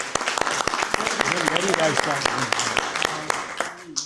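Enthusiastic applause for an award recipient at an Asian American honors event, close, rapid claps from a small crowd with a few cheers, with someone speaking over it.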